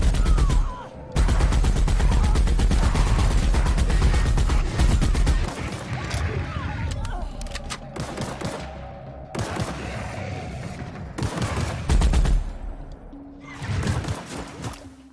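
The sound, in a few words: gunfire in video game Fallout: New Vegas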